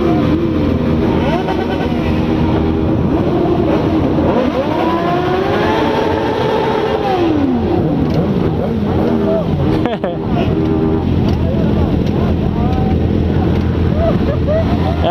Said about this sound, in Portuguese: Tem moto, hein